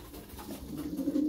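Domestic pigeons cooing nearby, a soft low throaty coo swelling slightly toward the end over faint background noise.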